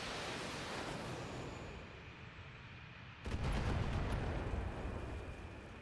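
LRM missile strikes hit a turret in MechWarrior, a rumbling roar of steady noise that swells into a louder, heavier burst of explosions partway through, with no talking.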